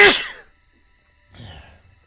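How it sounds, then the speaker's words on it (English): A single loud, close human sneeze bursts out at the start, followed a second later by a softer breathy exhale or sniff, with no talking. "I'm gonna sneeze real moment, so I apologize."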